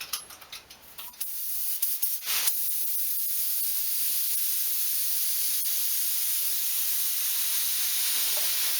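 A spray gun driven by a compressor hisses steadily as it lays clear coat around the black outer edge of a Les Paul guitar body at low pressure with a small fan, a continuous close airy spray after a few brief bursts.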